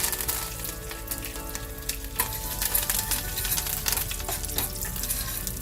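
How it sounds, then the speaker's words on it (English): Fresh curry leaves spluttering in hot oil with cumin seeds and chickpea lentils, a loud, close, dense crackle of popping spatters over continuous sizzling, swelling busier toward the middle and end. "this splutters if it's fresh curry leaves"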